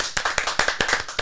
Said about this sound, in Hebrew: כפיים לדיטיון